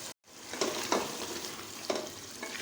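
Chicken pieces sizzle as they fry in oil in a pan for pulao, with a few distinct spoon scrapes from stirring over a continuous close hiss. There is no talk.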